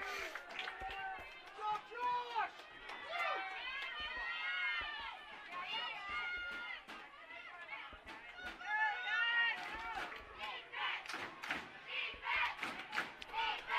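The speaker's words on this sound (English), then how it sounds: "Fired up crowd here." Spirited crowd chanting and cheering at a boys high school lacrosse semifinal, with a defensive chant swelling and falling, scattered thumps of play and a commentator talking over the noise throughout.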